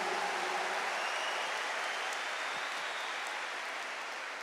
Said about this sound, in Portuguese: E aplauda nosso Senhor Jesus Cristo.